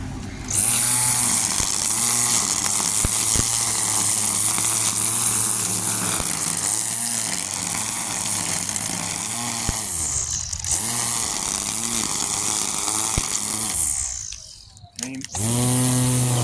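A Hyper Tough 20V cordless 13-inch weed trimmer whirs at a steady high-pitched drone while cutting weeds, with slight dips as the line hits growth, then winds down near the end and briefly restarts.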